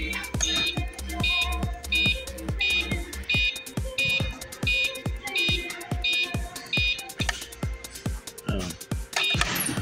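Rapid, repeated electronic beeping in a steady rhythm from an uncharged mobility scooter in a store, fairly close, with background noise and faint voices mixed in.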